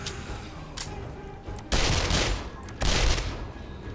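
In 7 Days To Die, two sharp, loud blasts of a grenade explosion arrive about a second apart after a quieter stretch with faint clicks, each blast leaving a short roaring tail.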